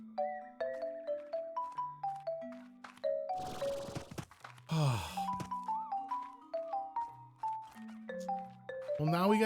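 Chimes ring out in the video game Slime Rancher, bright melodic tones struck in quick succession and layered like a tune on varied instrument sounds, with a couple of noisy whooshes breaking in midway.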